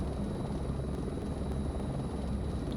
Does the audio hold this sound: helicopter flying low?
yes